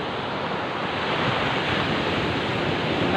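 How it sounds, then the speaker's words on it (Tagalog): Heavy surf roars steadily and close, a dense continuous wash of breaking sea waves with a rumble of wind underneath. "Malalaki pa rin yung alon."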